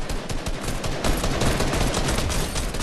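Rapid bursts of automatic gunfire in the Fortnite battle royale game crackle loud and close for a few seconds, dense and continuous with no talking over them.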